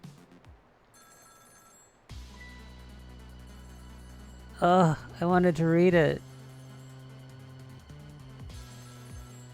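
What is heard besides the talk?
telephone ringing in the video game Ghost Trick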